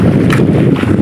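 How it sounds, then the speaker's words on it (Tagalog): Strong wind buffets the microphone at sea aboard a small net-fishing boat, a loud, close, rumbling roar with gusty swells over one second and no speech. "Lumakas yung hangin."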